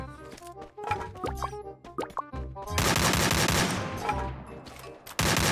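Gunfire in the mobile battle royale game Free Fire: clipped shots and thuds over in-game tones, then a long, loud sustained stretch of automatic shooting broken by a short pause.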